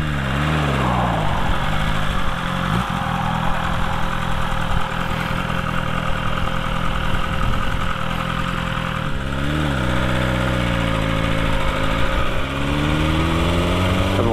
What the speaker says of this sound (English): Now I'll be more careful with opening the throttle fully as it will pick up quite fast